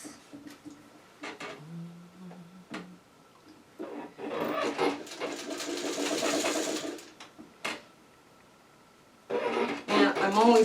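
Home sewing machine piecing quilt blocks with a quarter-inch seam, running in several short bursts and one long steady stretch of close, mechanical whirring and needle chatter, with brief pauses and handling noises between runs.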